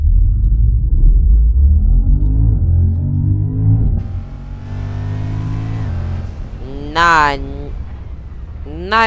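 A car engine in a Roblox game rumbles and revs repeatedly, rising and falling in pitch with sharp climbing accelerations toward the end, loud and close, while a voice talks over it.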